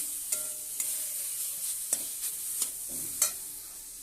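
Mashed elephant foot yam goes into a hot pan and is stirred, with a bright sizzling hiss and several distinct spatula scrapes and clinks at irregular intervals.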